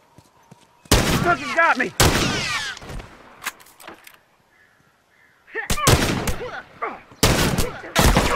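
Rifle fire in The Last of Us Remastered comes in loud, sharp cracks and short bursts close by, with a quiet gap midway and a voice speaking briefly between shots.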